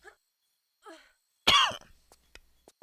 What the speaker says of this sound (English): Sorry, I've got a cough today.